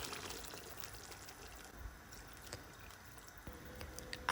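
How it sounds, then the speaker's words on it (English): Water pours quietly into a cooking pan of chicken curry with parsley, a soft, continuous splashing trickle with a few faint clinks, low in level and without speech. "You can now add 2 glasses of water."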